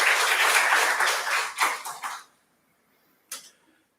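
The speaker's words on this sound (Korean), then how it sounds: "우리 하나님께 영광의 박수 다시 한번 드리겠습니다" A congregation applauding during a Sunday church service, dense sustained clapping that thins into a few scattered claps and stops, followed by silence and one brief final clap.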